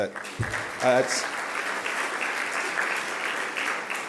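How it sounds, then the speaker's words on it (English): Sustained audience applause fills a hall at a mayors and business leaders plenary breakfast, a steady dense wash of many hands clapping that carries on throughout, with a voice briefly at the start. "That's worth applause, guys."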